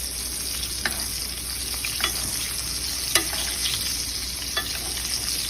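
Blackened salmon sizzling in a hot pan of bubbling fat while being basted, a steady close frying hiss punctuated by several sharp spoon clinks against the pan.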